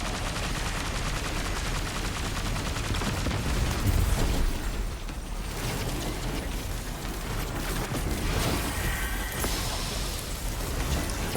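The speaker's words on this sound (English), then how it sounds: "Cool trick is to get on top of these things and just shoot away." Continuous gunfire from the video game Destiny, played as a Hunter Arcstrider, with rapid overlapping shots, blasts and mechanical clatter forming a dense, loud wash throughout.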